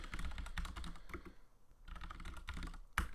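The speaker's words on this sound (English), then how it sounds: "I'll just type it out" Close, steady typing on a computer keyboard, a quick run of clattering keystrokes with a short pause partway through and a louder key hit near the end.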